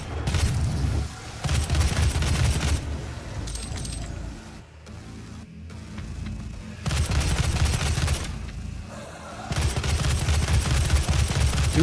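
Rapid sustained gunfire in the video game DOOM (2016), long loud bursts of dense automatic shots separated by brief quieter gaps, booming and close, with little talk over it.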